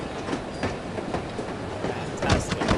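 Inside the No One Lives Forever video game, a moving train gives a steady rumbling roll with repeated clickety-clack wheel thumps, close and continuous, no voices heard.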